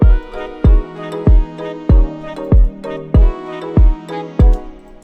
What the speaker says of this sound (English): so first I started off with a simple 4 on the floor kick